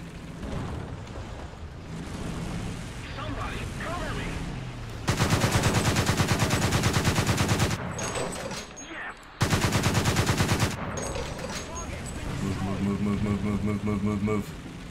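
Twin 35mm autocannons on a Gepard self-propelled anti-aircraft gun in War Thunder hammer out two loud, sustained bursts of rapid fire, separated by a short pause, over in-game battle noise and radio chatter.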